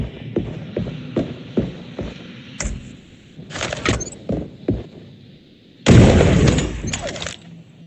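Sniper rifle fire in the roguelike video game Sweet Surrender, with a series of separate sharp shots spaced irregularly, then one loud, longer blast with a ringing tail.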